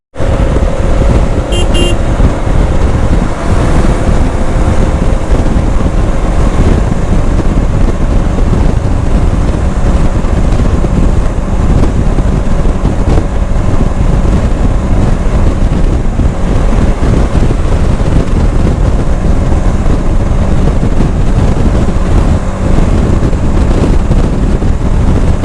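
A TVS Apache RTX 300 motorcycle cruises down a road at night, its engine droning steadily under loud, continuous wind rush against the microphone.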